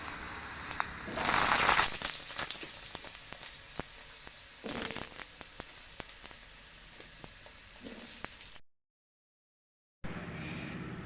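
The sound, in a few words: potatoes frying in a pan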